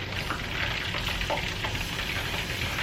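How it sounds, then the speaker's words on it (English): Fresh garlic cloves sizzling in a pan full of olive oil, a close, steady crackling fry at a constant level with no voices. "I have a pan full of olive oil, and I'm going to toss in some fresh garlic, making sure it does not burn"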